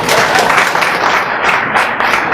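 An audience at a public gathering applauds a speaker about to address them, giving a loud, dense, steady wash of clapping that lasts the whole stretch.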